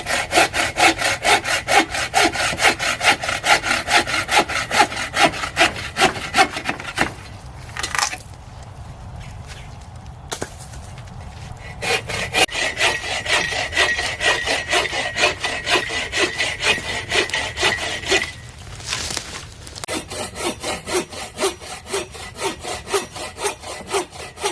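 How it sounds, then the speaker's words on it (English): A handsaw cuts firewood for a camp stove at a snowy outdoor campsite, with loud, close, rhythmic back-and-forth strokes. The sawing pauses briefly twice before starting again. "And that's the whole purpose of when you handsaw wood."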